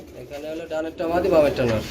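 Soft pigeon cooing mixed with nearby chatter at a pigeon market, low throaty calls repeating under people talking.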